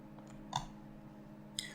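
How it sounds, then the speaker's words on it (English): Two crisp computer mouse clicks on an image button, about a second apart, close and distinct over a faint steady room hum. "okay, and click onto it"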